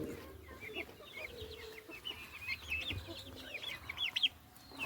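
Several chickens cluck softly and intermittently, somewhat distant, over a low background hum.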